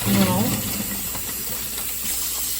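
Tap water runs into a kitchen sink while raw chicken breast is rinsed, a steady even hiss throughout, with a brief voice at the very start.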